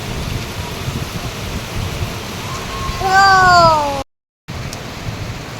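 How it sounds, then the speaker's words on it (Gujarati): Steady rain hisses loudly and evenly throughout; a cat meows once briefly near the end, followed by a moment of silence. "પછી મેં બહાર આવીને જોઈ તો સચ્ચે જ વરસાદ આવી રહ્યો હતો"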